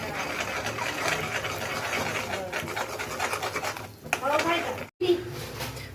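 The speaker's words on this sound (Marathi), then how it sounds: "आता अंडी पूर्ण फेटून बारीक करून घेऊ" Eggs are beaten and broken up in a pan for butter egg bhurji, a spoon scraping and clattering against metal in a steady rhythm, close, under talking, with a brief gap near the end.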